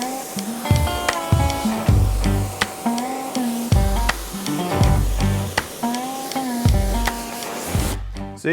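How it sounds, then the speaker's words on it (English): A pressure washer with a 25-degree tip rinses bugs off a car: a loud pump drone swells and drops in repeating pulses under a rushing spray hiss, close and steady, with no voices. "Let's just rinse this down and see how we're looking."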